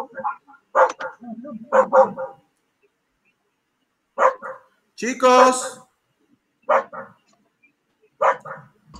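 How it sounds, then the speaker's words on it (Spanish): Several short, sharp dog barks come in separate bursts from a pet nearby in a home, mixed in with a teacher speaking Spanish during an online class. "Escucho más al perro que a ustedes."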